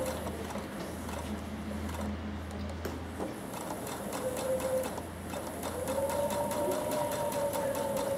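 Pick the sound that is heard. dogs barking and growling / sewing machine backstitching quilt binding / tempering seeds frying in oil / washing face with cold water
sewing machine backstitching quilt binding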